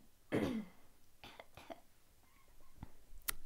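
A quiet, close throat clearing in a soft-spoken German ASMR vlog, one rough burst followed by a few faint breathy noises.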